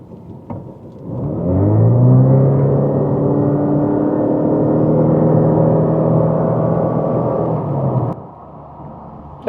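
A Lexus IS300h hybrid engine drones at a steady, constant pitch while accelerating to 100 km/h, a sustained loud hum holding for several seconds before cutting off abruptly.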